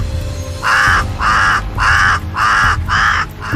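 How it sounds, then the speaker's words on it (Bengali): A crow caws loudly and close, six harsh evenly spaced calls in a steady rhythm with no other voices over a faint background. "এই দেখে কাক জোরে জোরে প্রকৃতি দেবীকে ডাকতে থাকে"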